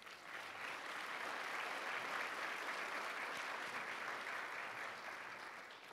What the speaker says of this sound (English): could we give another round of applause for that award?